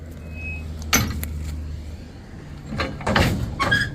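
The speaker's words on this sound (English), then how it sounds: "After all these years, the door latch is still working." A heavy metal latch on an old tank door clanks shut with a couple of sharp metallic knocks, followed by a louder scraping clunk, close by over a low rumbling background.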